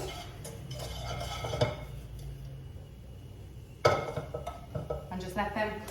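Food being stirred in a pan during home cooking of a Thai prawn noodle salad, with intermittent metallic clinks and scrapes of a utensil against the pan, a louder knock partway through, and faint background sounds.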